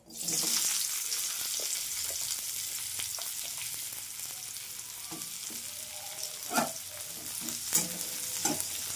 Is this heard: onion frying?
yes